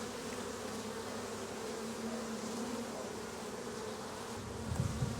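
Honey bees at an open flow hive buzz in a steady, close, low hum, with a few individual bees droning louder as they pass near.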